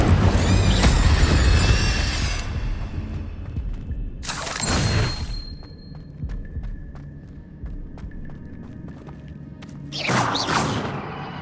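Incendio fire spell cast in Hogwarts Legacy, bursts of whooshing flame with a deep boom, three separate blasts spaced apart, ringing tonal hum lingering between them.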